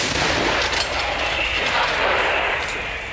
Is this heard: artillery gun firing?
yes